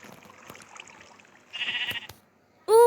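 Sheep bleating in Minecraft One Block, a short wavering bleat followed by a louder, sharper bleat close by at the end, over quiet game sounds.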